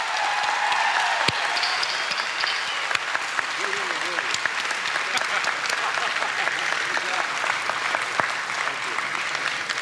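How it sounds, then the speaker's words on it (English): A graduating law school audience at a hooding ceremony breaks into dense, sustained applause for the faculty, steady and loud across the whole stretch with no voices standing out. "Will you please join me in a round of applause for the faculty?"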